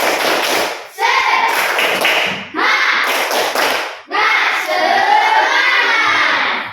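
A group of children shouting a rhythmic 'tepuk semangat' clapping chant in loud bursts, with a brief pause between each of three or four phrases and voices chanting over the claps.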